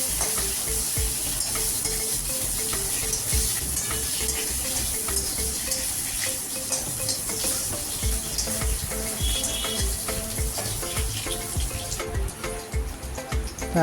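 Chopped eggplant frying in a pan for sajne saag, a dense continuous sizzle with occasional stirring, steady and close.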